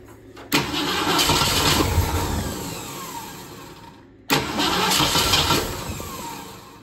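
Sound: 1966 Ford Mustang GT engine starting after 10 years

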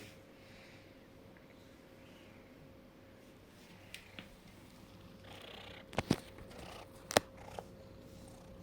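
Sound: cat purring

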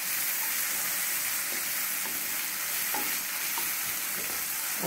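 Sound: roasting with asafoetida in hot oil

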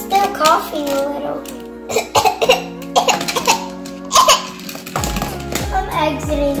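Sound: coughing

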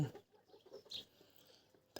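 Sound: chickens and roosters clucking

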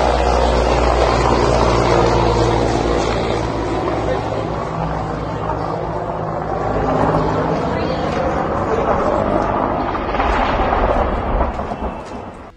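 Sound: helicopter flying

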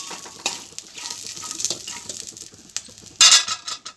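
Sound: frying chillies in oil for coconut chutney

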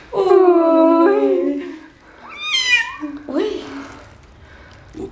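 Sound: kitten meowing

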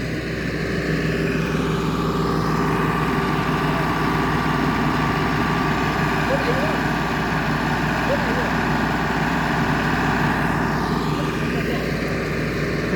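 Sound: tractor engine running

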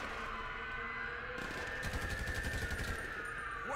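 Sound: gunfire at the driver in video game GTA V

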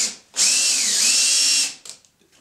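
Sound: screw driven in with a power drill

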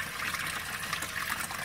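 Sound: water trickling through aquaponic tank overflow

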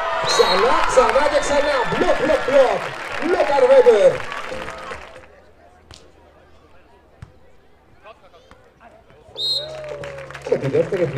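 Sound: applause for the winning beach volleyball team

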